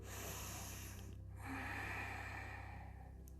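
A deep, slow breath drawn in during a yoga class, soft and close, with an airy nasal rush that swells in the middle before easing off.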